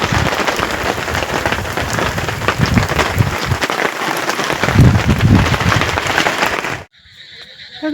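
Heavy rain pours outside a Gujarati family home with a dense, steady hiss for several seconds, then cuts off abruptly to near silence.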